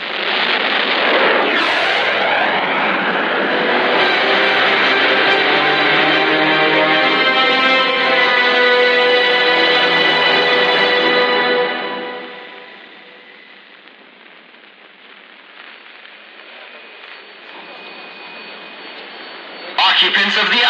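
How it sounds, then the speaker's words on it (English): Spacecraft reverse thrusters fire as a loud, sustained roaring whoosh with a rising sweep at the start. The roar holds steady, then fades away to a quiet tail before a sharp burst near the end. "Then on my mark, Gordy, fire the reverse thrusters to maximum."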